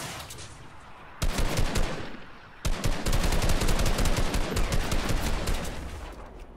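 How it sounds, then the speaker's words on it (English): Heavy automatic gunfire rattles in a video game, a fainter stretch of shots followed by two loud, sustained bursts of rapid fire that fill the whole clip. "I'm gonna shoot."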